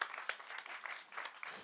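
Comedy club audience applauds sparsely in short uneven bursts, fairly faint and distant, with individual claps standing out.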